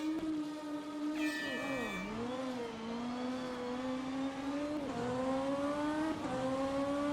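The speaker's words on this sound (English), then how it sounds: "20 minutes of racing here in the DTM car." A BMW M4 DTM race car engine roars steadily in rFactor 2 racing at Monza, its pitch dipping hard under braking and climbing through the gears, loud and close with a brief high whine near the start.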